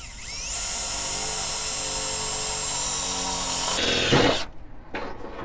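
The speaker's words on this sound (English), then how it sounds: "you could go ahead and drill all the way through" A steady, loud whining drill runs for several seconds, then strains and grinds as it bites through a metal car fender, before stopping abruptly.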